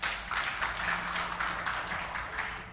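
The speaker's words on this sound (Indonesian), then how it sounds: "Tepuk tangan buat Tuhan." A church congregation applauds together, a dense, steady patter of many hands clapping at moderate distance for a few seconds.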